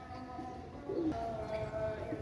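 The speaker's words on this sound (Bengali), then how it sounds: "অনেক সুন্দর কবুতর দেখেন ভাই যাদের লাগবে নেবেন" Pakistani pigeons for sale coo softly in a quiet stretch, with brief throaty calls sitting low under faint background noise.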